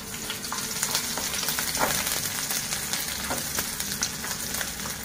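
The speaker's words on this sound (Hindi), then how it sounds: "मैंने लहसुन डाला है और ये ऑनियन डाल रहा हूँ।" Garlic and chopped onion sizzling in hot oil in a pan as the base of a paneer mutter malai gravy, a dense steady crackle and hiss with occasional scrapes of stirring, close and continuous with no talking.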